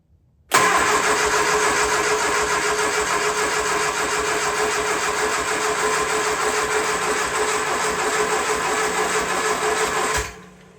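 A freshly rebuilt Triumph Spitfire engine cranks on the starter for about ten seconds, a loud, steady, rapid churning that holds unbroken until it cuts off, with no talk over it.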